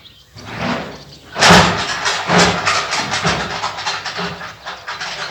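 A loud engine rumbles and clatters nearby, rising in a burst and then chugging steadily with uneven knocks; no one speaks.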